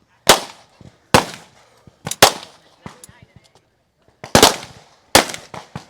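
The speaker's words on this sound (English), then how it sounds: "as he waits for Zach to empty his pistol" Sharp pistol shots crack out in an irregular series during a timed Stagecoach team stage at an elite shooting competition, some spaced singly and a few in quick pairs, loud and close with brief echoing tails.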